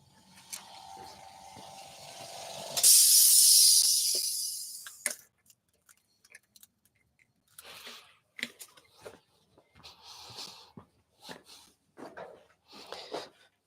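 An airbrush sprays paint with compressed air from an outdoor compressor in one bright, hissing burst lasting about two seconds, followed by scattered small clicks and handling noises in a quiet room.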